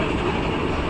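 A Bangalore metro train running, a loud, steady rumble of the carriage in motion with a faint rail clatter, heard from inside and heard alone.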